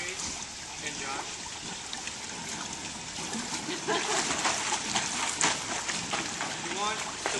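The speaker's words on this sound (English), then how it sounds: "you're going to hold on to the wall and kick, as Megan's going to demonstrate, and Josh." Swimmers holding the pool wall and kicking, producing a continuous churning splash and gurgle of water in an echoing indoor pool, with voices audible in the background.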